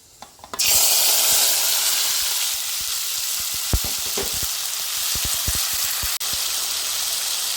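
Green chillies, onion, curry leaves and tomato hit hot oil in a pan with fenugreek for a Kerala mackerel fish curry, bursting into a loud, steady sizzle with scattered pops and stirring clatter, briefly dipping once near the end.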